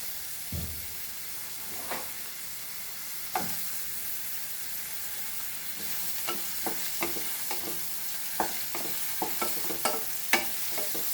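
Cumin seeds fry in hot oil for a Goan dish with a steady, broad sizzle, while a spoon stirs and scrapes the pan in scattered clicks and taps, growing busier toward the end.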